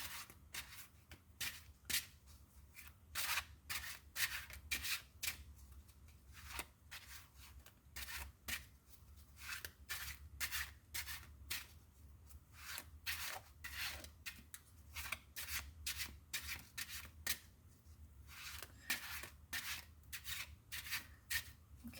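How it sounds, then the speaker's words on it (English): A deck of tarot cards is shuffled by hand, a quiet, close run of repeated crisp riffling bursts in an irregular rhythm, each flurry separated by brief pauses. "Let me shuffle it in a different way"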